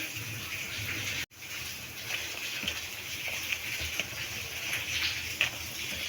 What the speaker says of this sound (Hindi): पानी थोड़ा सा और इस्तेमाल करेंगे।